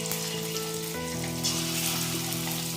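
Chicken pieces dropped into hot mustard oil for restaurant-style chilli chicken sizzle steadily, a loud continuous frying hiss close by with no voices.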